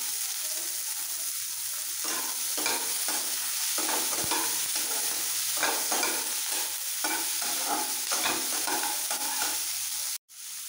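Sliced ginger, chillies and a handful of cashews fry in a hot pan with a steady, close sizzle, with scraping stirs breaking through now and then.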